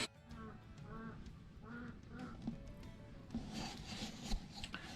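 Rhythmic rubbing and rasping of an engine valve being lapped into its seat on an MG Midget 1500, a repeated back-and-forth grinding scrape at close range, growing busier and harsher toward the end.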